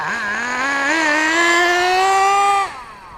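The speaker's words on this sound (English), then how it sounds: "these little on-road nitro cars are very fun" An HPI Nitro RS4 3 EVO+ on-road nitro RC car running on 30% nitro fuel screams with a loud, high-pitched engine whine that rises and wavers in pitch, holds near full revs, then drops away abruptly near the end.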